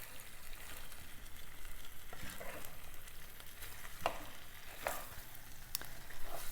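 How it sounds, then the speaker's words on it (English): Vegan pad thai noodles and vegetables sizzle softly in a pan as they are stirred and folded together, a faint steady frying hiss with a few light scraping taps, no voices. "we'll just keep stirring it all in, keep kind of folding it in"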